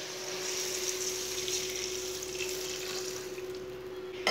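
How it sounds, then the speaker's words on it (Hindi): Two glasses of water are poured into a cooking pot while making masoor dal khichdi, a steady, soft, continuous splashing stream heard alone and close. "दो गिलास पानी डाल लेंगे।"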